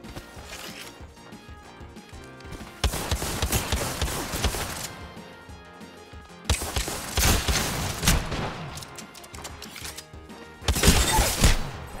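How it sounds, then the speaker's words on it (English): Video game gunfire in rapid bursts of dense, rattling automatic shots that come in several loud volleys separated by quieter stretches of mechanical game sound. "Getting shot at."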